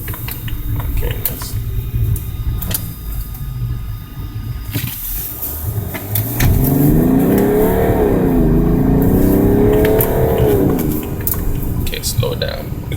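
A diesel BMW with a newly replaced glow plug module accelerates on the freeway, a steady cabin drone swelling into a rising, falling engine surge midway, with a voice talking over it.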